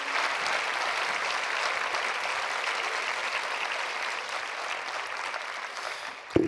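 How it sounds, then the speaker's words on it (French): An audience at a forum's opening plenary applauds its volunteers with long, steady, warm clapping in a large hall, easing slightly toward the end before a brief thump. "je vais vous demander d'applaudir encore plus chaleureusement tous les bénévoles du forum"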